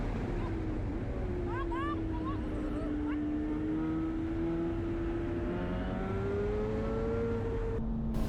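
Honda Civic Type R FK8 engine held near redline in third gear on a racetrack, a steady loud drone with a slowly rising pitch heard from the cabin, a voice talking over it throughout.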